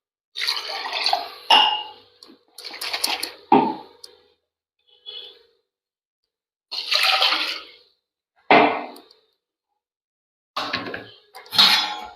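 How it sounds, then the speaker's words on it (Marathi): A glass jar being rinsed with water in a kitchen: short bursts of splashing and pouring separated by silent gaps, with small clinks, close and clear. "मी ही जार आहे ते धुवून स्वच्छ घेते"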